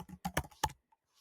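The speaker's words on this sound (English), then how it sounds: "on the drop down here, you can just type in Satoshi" A few quick keystrokes on a computer keyboard, close and quiet, in a short burst followed by near silence.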